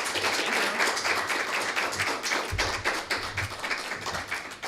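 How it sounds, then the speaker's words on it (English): Audience at an alumni award research presentation applauds, a short burst of dense clapping that gradually thins out before the speaker begins. "shall we give a round of applause for her for her work?"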